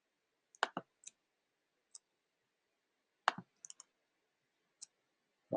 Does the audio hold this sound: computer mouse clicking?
yes